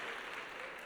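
Scattered clapping from an audience at an Armed Forces Day music evening, a steady patter filling a brief moment with no voices over it.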